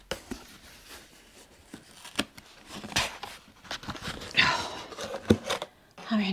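Scissors cut open a big cardboard box, giving irregular crisp snips, crunches and tearing bursts close by, with talking in between.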